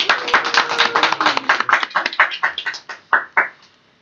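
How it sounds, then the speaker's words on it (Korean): A small group claps together in welcome at the opening of a reading club meeting indoors, a dense burst of many hands that thins out into a few scattered final claps and stops after about four seconds. "서로 박수로 환영합시다"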